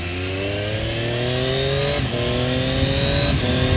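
Moto2 limited-edition sports motorcycle engine while riding straight, a steady loud drone with rising pitch as it accelerates, briefly dipping at gear shifts around two and three and a half seconds.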